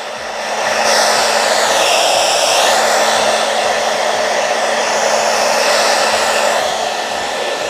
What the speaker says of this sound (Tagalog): i-dryer po natin siya ng konti